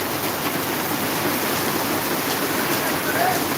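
Heavy rain falling in Maharajpur, a dense and steady broadband hiss of downpour that stays constant throughout with no distinct breaks.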